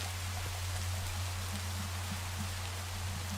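Steady rain in Minecraft, an even, continuous hiss of falling drops with a low constant hum beneath, faint and unbroken throughout.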